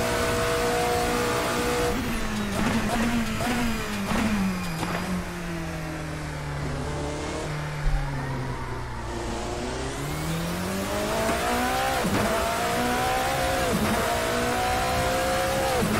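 A classic endurance racing car engine in Assetto Corsa revs up and down repeatedly through gear changes, loud and close, with a brief thump midway and no talking.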